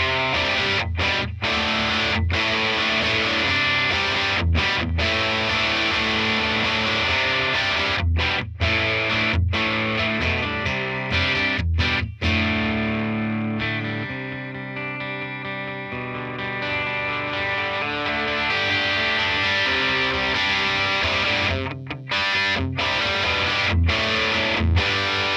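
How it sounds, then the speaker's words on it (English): Electric guitar driven into heavy distortion through an Ampeg GVT tube amp with the controls dimed and the mids cut, playing loud sustained chords with brief breaks between them, alone with no talking. "I'm going to start out with the settings dimed to get distortion and then turn the mids all the way"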